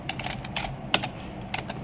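Quick, uneven clicking of keys on a computer keyboard as an email is typed, with one sharper tap partway through and no voices.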